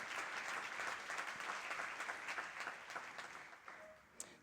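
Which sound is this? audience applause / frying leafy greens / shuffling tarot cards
audience applause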